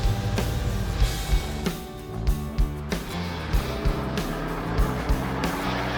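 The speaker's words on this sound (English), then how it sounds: "This car's driving great." A custom-built sports car cruises along, its engine droning loud and close with a steady low rumble broken by regular thumps and surges as it drives.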